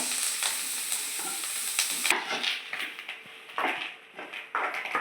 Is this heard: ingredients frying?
yes